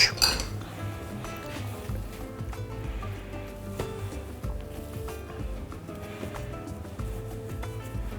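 Cooked tender meat in red wine sauce being set onto a serving plate, with clinks and taps of cutlery and dishware scattered across the clip, close and fairly quiet.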